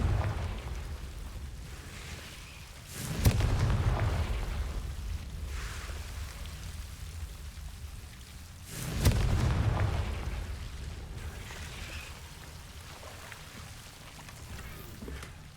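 Two deep booming blasts of the Confringo fire spell in Hogwarts Legacy, spaced about six seconds apart, each rolling out over a low rumbling game ambience.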